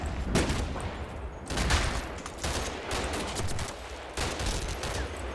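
Artillery and gunfire from the WWII Normandy battle in the strategy game Combat Mission: Battle for Normandy, a continuous dense roar of distant blasts and crackling fire with sharper bursts standing out, and no one talking.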